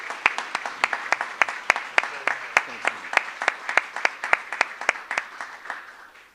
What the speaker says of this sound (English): could I give one more round of applause to our three veterans?